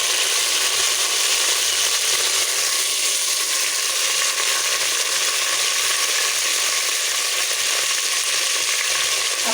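Steady, dense sizzling of dried chillies frying in hot oil, continuous and fairly loud throughout with no talking.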